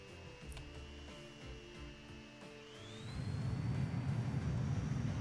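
A fixed-wing airplane in the Transport Fever video game takes off: a quiet engine tone climbs in pitch and then swells into a louder, steady roar over a low rumble, with no speech.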